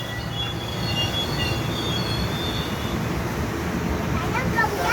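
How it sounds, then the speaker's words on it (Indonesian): The new Bogor–Juanda Commuter Line electric train rolls along with a steady rumbling wheel roar and faint high squeals, heard close and continuous. "Udah, keretanya jalan."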